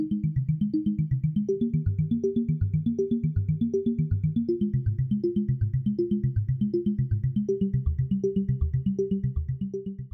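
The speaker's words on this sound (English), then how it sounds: "This one's called the Resonator. It's a physical modeling module that resonates incoming audio," Audible Instruments Resonator physical-modeling module in VCV Rack producing a steady stream of rapid plucked, resonant tones in a repeating low melodic pattern, with faint high pings above, continuous and close with no talking.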